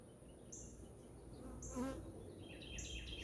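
Queen bee held in a hand while being marked, giving a faint, close buzzing hum with a brief louder whine near the middle.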